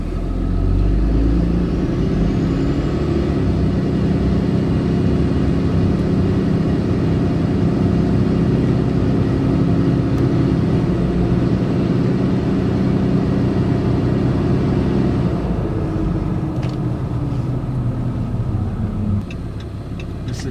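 A pickup fitted with a new BD 68RFE automatic transmission pulls away, its engine droning loud and steady close by, then the note eases off near the end with a few light clicks.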